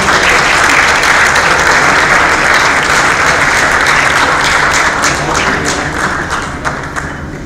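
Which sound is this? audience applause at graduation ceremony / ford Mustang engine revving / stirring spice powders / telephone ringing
audience applause at graduation ceremony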